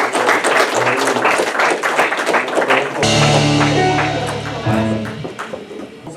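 A church congregation claps together in a dense, steady burst of applause, then the clapping blends into sustained music and raised voices that carry on over it.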